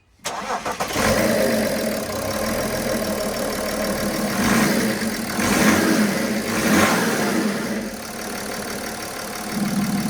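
A BMW 535d diesel engine, suspected of a loose wastegate, starts up and is revved several times in swelling bursts before settling back to a steady idle, loud and close with no talk.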